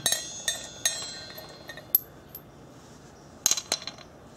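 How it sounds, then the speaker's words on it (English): A small metal fastener and washer come off a Craftsman V20 cordless miter saw blade, giving a few sharp metallic clinks and taps, close and fairly quiet with gaps between them. "once it's loose enough, you can remove the fastener along with the washer"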